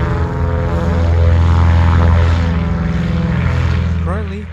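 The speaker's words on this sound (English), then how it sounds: "the DO-28 was equipped with exhaust augmenters, producing a healthy bark during takeoff" A Dornier DO-28 twin-engine 1950s propeller aircraft with exhaust augmenters roars loudly and steadily during takeoff, a harsh droning bark that swells and then begins to fade near the end.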